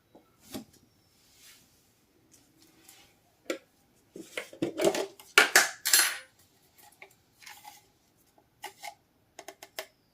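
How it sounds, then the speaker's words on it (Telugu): Three eggs with turmeric and salt are beaten in a bowl, making scattered metallic clinks and scraping taps that come in short irregular bursts with quiet gaps between them. "సో దీంట్లోకి ఇప్పుడు కొంచెం పసుపు అలానే సాల్ట్ యాడ్ చేసుకుని తగినంత బీట్ చేసుకోవాలండి."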